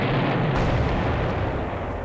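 A heavy explosive blast from a ship attack in Civilization II: Test of Time, one loud rumbling boom that starts sharply and stays dense and roaring to the end, alone with no voices.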